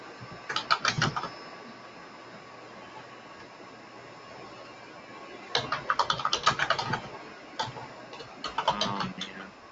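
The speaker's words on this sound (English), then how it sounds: "Someone's typing away." Someone types on a computer keyboard in short bursts of rapid, close clicking keystrokes separated by quiet gaps, with a faint steady hum underneath.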